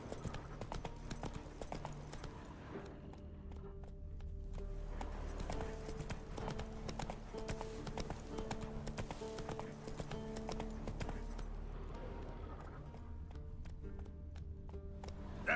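Roach, a horse in The Witcher 3, gallops with rhythmic, quick clip-clopping hooves that hold an even pace throughout over soft game music, fairly close and moderately loud.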